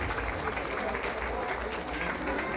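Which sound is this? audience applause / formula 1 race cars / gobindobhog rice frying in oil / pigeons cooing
audience applause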